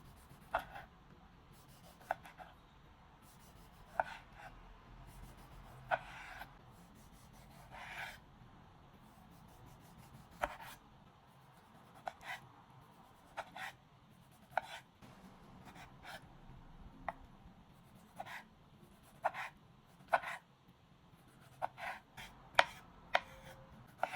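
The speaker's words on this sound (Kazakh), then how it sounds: "4 дана қызанақты да текшелерге кесеміз." Tomatoes cut into cubes with a knife, quiet and sparse knife strikes against a cutting board spread unevenly over a long stretch, with soft rubbing sounds in the gaps between chops.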